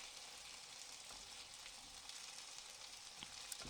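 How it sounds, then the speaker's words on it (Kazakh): Rice fries in oil in a pot for maqluba, a faint steady sizzle with crackling throughout and one sharper pop near the end, no talking. "осылай майға қуырып аламыз"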